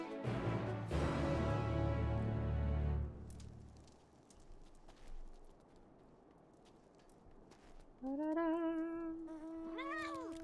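A cat meows in the Final Fantasy XIV video game, two clear tonal meows near the end after a loud stretch of game sound and music, close and distinct.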